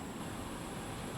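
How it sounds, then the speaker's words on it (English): An air conditioning unit runs outside during work on a 2012 Honda Pilot on a very hot day, giving a steady, even broadband roar that is constant and fairly loud with no talking. "Apologies about the noise from the AC unit"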